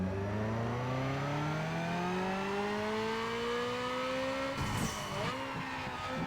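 Nissan Skyline 2.6L I6 in Need For Speed Underground 2 revving on a dyno, engine pitch climbing steadily for several seconds, then a shift and sharp rev drop before it rises again, loud and alone.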